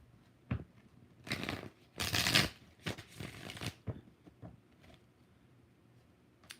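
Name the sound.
tarot cards being shuffled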